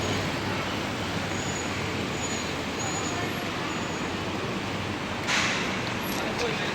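Steady city road traffic rolls past in Kuala Lumpur, a continuous broadband roar of cars and buses with a brief louder swell near the end.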